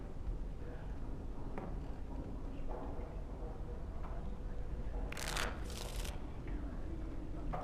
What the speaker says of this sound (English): Before we start, the cards must be shuffled.